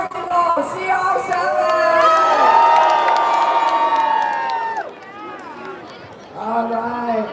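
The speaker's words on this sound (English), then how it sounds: "Are you folks cheering for Portugal CR7?" A crowd at a Portugal versus Spain World Cup watch party in Nathan Phillips Square, Toronto, cheers and shouts for Portugal in a loud, swelling roar of many voices. The roar fades, then rises again briefly.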